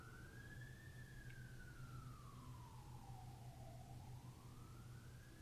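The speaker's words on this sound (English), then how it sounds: "That's why the sirens are coming there." A single siren wails far off, slowly rising and falling over a low, steady hum.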